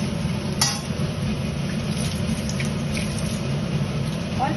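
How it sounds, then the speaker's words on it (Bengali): Onions fry in a pan with oil, giving a steady hiss and sizzle while a utensil occasionally scrapes and clinks against the metal, close and continuous with no talking. "পেঁয়াজটা দিয়ে ভাজতে হবে।"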